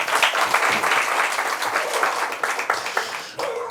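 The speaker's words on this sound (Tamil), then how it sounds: "நம்முடைய வளமான கரவொலியால் அவருக்கு ஒரு பாராட்டு கிடைக்கும்" Audience applause at a Tamil poetry festival honouring a poet, dense steady clapping from a crowd filling the hall and fading slightly near the end.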